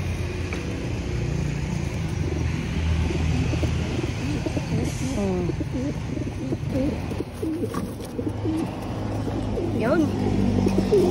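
Pigeons coo repeatedly in soft, throaty rolls close by, mixed with someone talking and faint background traffic.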